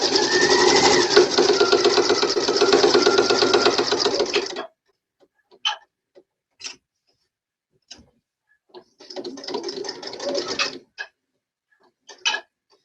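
A home sewing machine stitches quilting fabric at a 2.0 stitch length, running in a fast, even mechanical whir for several seconds, then stopping, with scattered ticks and handling clicks before a second shorter burst of stitching.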